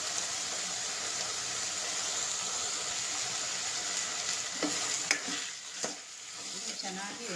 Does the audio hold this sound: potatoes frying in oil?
yes